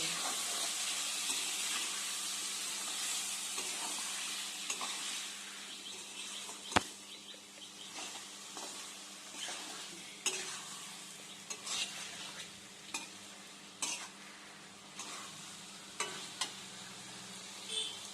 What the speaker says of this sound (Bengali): অল্প অল্প গরম জল দিয়ে অল্প অল্পভাবে আমরা মিশিয়ে নেব